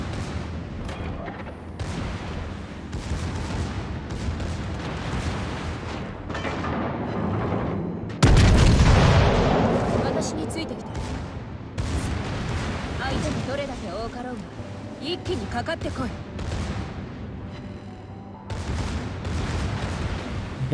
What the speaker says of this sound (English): Why are my secondaries firing?